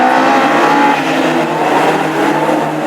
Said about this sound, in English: Jamie Johnson, you can hear the rasp of his car